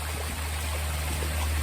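Creek water flowing steadily in a continuous close-up wash around someone sitting in the stream, with a low hum underneath.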